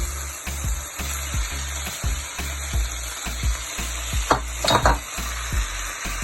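Ackee and saltfish sizzle and fry steadily in a pan, with repeated low knocks of stirring and a few brighter clatters near the end; no one speaks.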